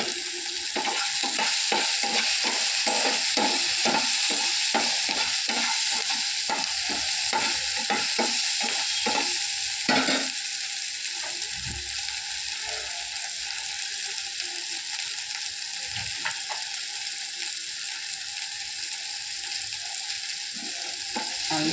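Tomatoes sautéing in hot oil in a pan, loud continuous sizzle with rapid rhythmic spatula scrapes in the first half, then a steadier frying hiss with occasional stirs.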